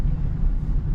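Steady low rumbling road noise from the tyres of a 2014 Honda City 1.5 V rolling on pavement, continuous and even throughout, with no voices.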